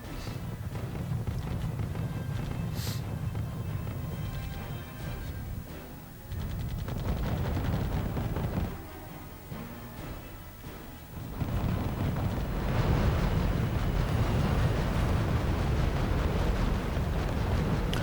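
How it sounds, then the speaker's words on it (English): Artillery fire in the real-time strategy game R.U.S.E., a dense sustained barrage of booming shots and rumbling impacts that swells and dips, loud and continuous, with no talking. "I forced my artillery to destroy these buildings."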